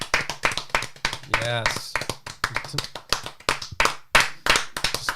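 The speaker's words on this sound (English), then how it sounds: "Just clap it." Hands clap in quick, sharp bursts around a morning-show studio table, mixing with near, lively conversation and laughter throughout.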